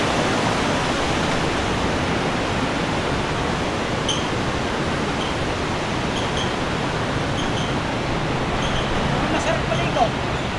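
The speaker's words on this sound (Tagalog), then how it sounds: "Ang lakas po ng agos." Strong river current rushing over rocks in Tibiao, Antique, a loud, dense, unbroken roar of water filling the whole stretch, with a few faint higher sounds near the end.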